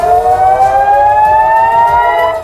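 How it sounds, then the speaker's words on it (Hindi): A loud, steady air raid siren in Israel during the Israel–Hamas war wails on a sustained, slowly rising tone for the whole stretch, with no voices. "सायरन बजने लगे थे।"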